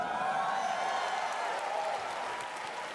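Audience at the Bethesda E3 2019 briefing applauding and cheering, a dense wash of clapping and voices that stays loud and steady, then eases slightly toward the end.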